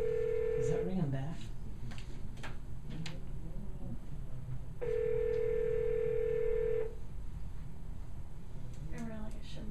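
A steady electronic telephone ringback tone sounds twice, a short burst then a longer two-second one, with quiet background chatter and room noise of a meeting around it.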